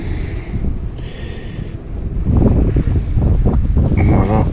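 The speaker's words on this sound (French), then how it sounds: "Il y a un peu plus de vent" Wind buffets a sea dyke during a surfcasting session, a steady rough rumble that swells louder in the second half, with bursts of gusting noise over the shore.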